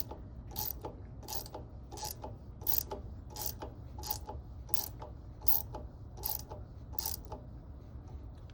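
A puller slowly draws a stuck impeller off the shaft of a Scania 6SY pump, giving about a dozen evenly spaced ratcheting clicks over a steady low mechanical hum. The clicks are close and moderate in level, and no one speaks.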